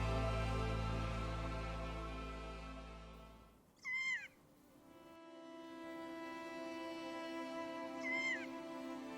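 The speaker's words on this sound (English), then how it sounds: "Gently awoken by the sounds of Kia" Kea parrots in Mount Aspiring National Park give two short, high, warbling calls, one loud and close and a fainter one a few seconds later, over a steady low hum that drops away partway through.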